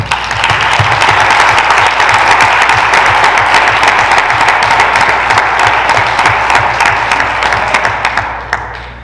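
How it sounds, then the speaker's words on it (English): Loud sustained applause from the audience at a school board of education meeting honoring students, thick continuous clapping that tapers off near the close. "let's give them another round of applause"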